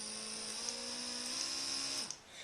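A small rechargeable USB-C airbrush compressor for model painting runs with a steady, close electric whine and hum, then spins down abruptly near the end.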